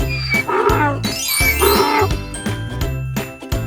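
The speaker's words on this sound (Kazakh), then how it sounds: "Ал бұл ит. Ит не дейді? Ит гав. Гав дейді." A dog barks a few times over bright, jingly music, the yaps blending with the melody.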